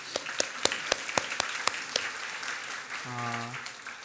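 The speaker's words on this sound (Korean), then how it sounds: "우리 한번 하나님께 감사의 박수를 드리겠습니다" A church congregation gives thanks with applause: a run of sharp, evenly spaced claps at first, then a dense continuous patter, with a voice speaking briefly near the end.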